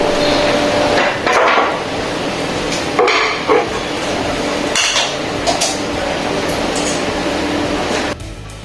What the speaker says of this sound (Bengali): ঢাকনা দিয়ে ঢেকে রেখে দিচ্ছি যতক্ষণ সিদ্ধ হচ্ছে না।